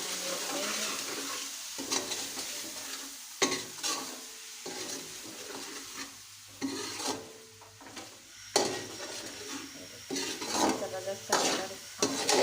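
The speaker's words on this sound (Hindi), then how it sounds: "थोड़ी सी इसमें हम काली मिर्च शामिल करेंगे और इसको अच्छी तरह हम मिक्स करेंगे" A spoon stirs crushed red chili and black pepper into a simmering aloo chicken curry, with rhythmic scraping strokes against the pan over a close sizzle, pausing briefly between passes.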